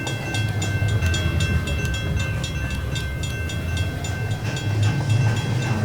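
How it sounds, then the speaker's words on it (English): Model trains run in the Rolling Line model railway game, a steady, close rolling rumble with regular clicking wheel beats over rail joints and a thin, constant high tone, with no voices. "It's a model train set game."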